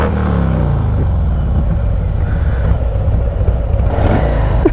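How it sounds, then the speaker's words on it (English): A motorcycle engine on a Milwaukee street gives a deep, continuous rumble and throaty drone, loud and close, with a slight rise in revs near the end. "That bike sounds so good."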